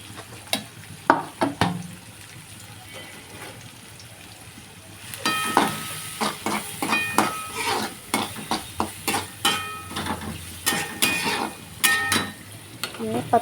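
Capsicum and carrot being stir-fried for a red momo chutney, a spoon scraping and clinking against the pan in a quick, steady rhythm over a soft sizzle, sparse at first and then busier and louder.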